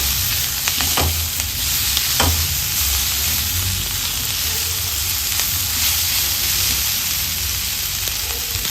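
Egg chilli sizzles steadily in a hot pan with pepper powder being mixed in, a loud, close frying hiss that runs throughout, broken by a few scrapes and clinks of stirring, with no talking.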